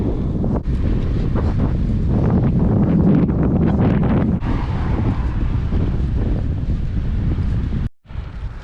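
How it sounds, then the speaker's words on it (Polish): Strong wind buffets the microphone in a constant, heavy rumble, cutting out abruptly for a moment near the end. "Jak wracam w przeciwnym kierunku, wiatr wieje na mnie."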